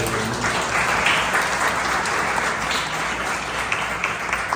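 A church congregation at a Nazarene service breaks into sustained applause, a dense, loud wash of clapping filling the whole stretch without a break.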